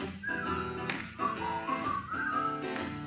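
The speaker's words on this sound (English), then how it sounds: "Just purse your lips and whistle, that's the thing." A person whistles a cheerful melody nearby, clear sustained tones rising and falling across a few phrases with no talking.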